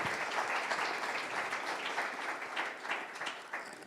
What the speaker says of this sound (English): Can we put a round of applause for this group?